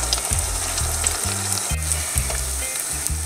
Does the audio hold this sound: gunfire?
no